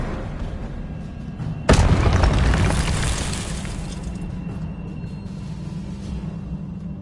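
A Confringo spell explosion in a Harry Potter video game: a sudden loud boom that bursts in and then rolls into a long, dense roar that slowly fades, with no voices.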